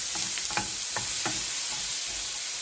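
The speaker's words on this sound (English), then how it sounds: "So, give it all a good stir around. Keep it moving around." Bacon and egg scramble is stirred in a frying pan, several scraping strokes of a utensil knocking against the pan over a constant close sizzle, with no talking.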